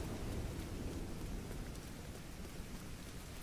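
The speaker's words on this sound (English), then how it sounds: "The rain effects of this game are pretty good as well" Rain in a video game: a soft, steady wash of falling rain, faint and even, with no voices over it.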